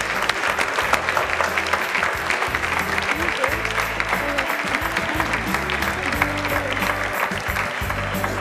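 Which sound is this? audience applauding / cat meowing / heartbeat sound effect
audience applauding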